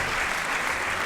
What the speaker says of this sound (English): While they're clapping